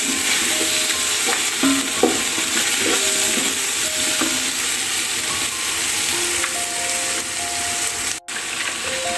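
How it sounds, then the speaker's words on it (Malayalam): Biryani masala frying in oil in a pan while being stirred, a close, continuous hissing sizzle with repeated scraping strokes of the spoon. "മസാല ഏകദേശം വഴന്ന് വന്നിട്ടുണ്ട്."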